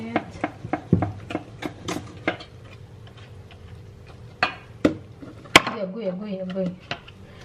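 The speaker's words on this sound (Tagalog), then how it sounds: "Mix natin yung mascarpone sa cream na may sugar at yellow na itlog." Mascarpone being mixed with sugared cream and egg yolks in a bowl, giving irregular sharp clinks and taps of a utensil against the bowl, close and fairly quiet, with a voice speaking briefly near the end.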